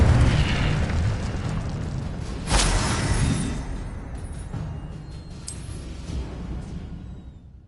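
An Incendio fire spell goes off in the Hogwarts Legacy video game: a loud burst and roaring whoosh that fades out, then a second sharp burst with a trailing rumble.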